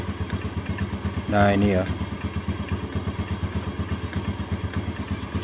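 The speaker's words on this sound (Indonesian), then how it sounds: "Ini memang ada suara letak-letak itu dari kopling ya, dari area kopling." A Yamaha Jupiter Z1 motorcycle idles close by, with a steady rhythmic engine pulse and a clattering rattle from the clutch area running throughout; someone speaks briefly over it.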